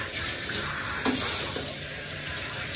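Water runs steadily from a tap while a dog gets bathed and wetted down, a constant close splashing rush with one brief clatter partway through.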